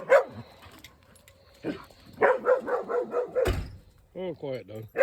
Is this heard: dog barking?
yes